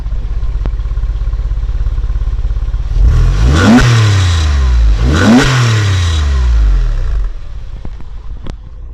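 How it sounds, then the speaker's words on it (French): A Porsche 911 with stock exhaust idles with a low rumble, then rises in two loud revs in quick succession that fall back to idle, heard up close. "Tu peux nous la démarrer un peu pour entendre ce que ça donne?"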